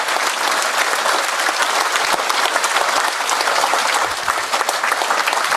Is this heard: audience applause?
yes